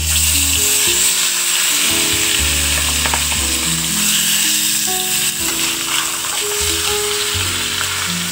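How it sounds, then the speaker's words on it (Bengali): Steady loud sizzling of fish frying in hot oil in a pan, with occasional stirring scrapes, continuous and close throughout, no voices. "এবার তারপর আমরা মাছটা ভেজে নেব"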